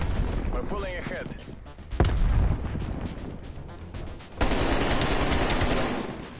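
AK rifle fire in a team deathmatch shooter video game comes in rapid automatic bursts with a loud crack partway through, while players talk over the shooting.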